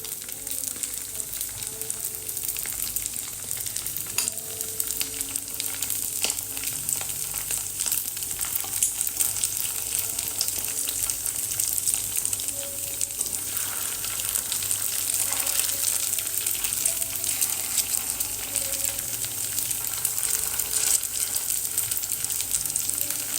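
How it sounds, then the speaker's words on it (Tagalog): Quail eggs (kwek kwek) frying in hot oil, a steady close sizzle and crackle that runs without pause, with faint kitchen clatter and no talking. "Piprito na natin siya"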